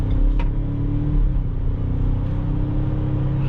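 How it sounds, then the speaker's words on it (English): A 2021 Ford Ranger Lariat SuperCrew 4x4 with a 2.3-liter turbocharged EcoBoost engine accelerates on the road, a steady loud engine rumble and whir from inside the cab, with no talk. "let's test a little bit of the engine here"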